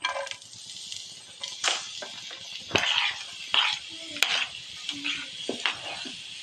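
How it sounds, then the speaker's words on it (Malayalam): Onions, green chilli and garlic sauté in a pan on a gas stove, a quiet sizzle broken by irregular scraping and clinking strokes as the mixture is stirred, close by. "പച്ചമുളക് ഉള്ളിയെല്ലാം ഇട്ട് വെള്ളുള്ളി ഇട്ടിട്ട് ഞാൻ നല്ലോണം വഴറ്റിയെടുക്കട്ടെ"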